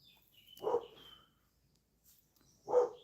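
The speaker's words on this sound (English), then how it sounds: "Sorry, guys, if you can hear the Zed barking, that's somebody shooting in the area, so he" A dog barks twice, a couple of seconds apart, muffled and somewhat distant, with quiet in between.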